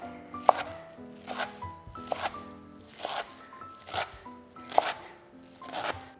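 A kitchen knife chops through salted green radish that has had its water squeezed out, mincing it on a board in about six steady, evenly spaced strokes, close and moderately loud.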